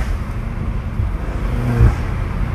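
BMW M5 Competition F90 fitted with aftermarket intakes, a loud continuous engine roar with rising whir as the car accelerates, swelling briefly near the end, no talk over it.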